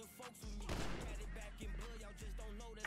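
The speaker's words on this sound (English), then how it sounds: "There is a warning shot." Warning gunshots ring out in a GTA roleplay game as several sharp, close cracks spaced through a short stretch, with a thin game soundscape behind them.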